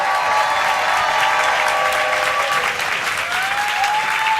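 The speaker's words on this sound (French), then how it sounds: "On applaudit très fort Via Grand Paris" A studio audience at a French television show applauds loudly and steadily, dense close clapping that holds for several seconds without letting up, with a few faint voices mixed into the crowd.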